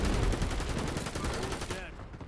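Gunfire in Call of Duty Warzone, a rapid, rhythmic burst of automatic shots, loud and close, filling the whole short moment before easing off at the end.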